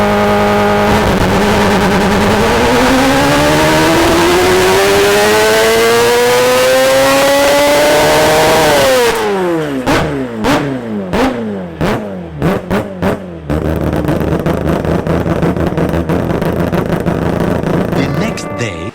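A four-rotor Toyota Supra on a dyno screams up through the rev range past 10,000 RPM in one long rising wail, then snaps off the throttle into a string of sharp crackling blips and pops before settling into a rough, loud idle.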